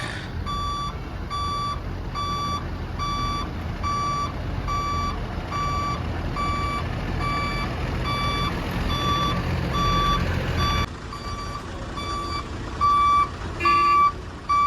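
A truck's reversing alarm beeps steadily and evenly over a low engine rumble, close and loud throughout, as it backs in to unload pipes.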